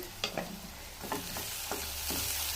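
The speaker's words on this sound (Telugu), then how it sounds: "ఆనియన్స్ కొంచెం రెడ్ కలర్ వచ్చేంత వరకు వేపుకోండి కరేపాకు వేసుకున్నాము" Onions and curry leaves fry in a pan with soft sizzling and a few distinct stirring scrapes and clinks spaced through the moment, close by and with no talking.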